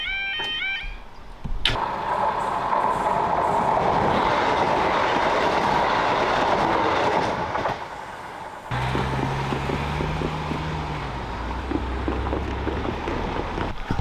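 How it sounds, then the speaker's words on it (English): An express train races through near Lydney station by a level crossing in the Forest of Dean without stopping, a loud, steady rumble and rush of wheels filling most of the stretch before dropping away to a lower engine-like hum. "That train went straight through, it didn't even stop at Lydney station."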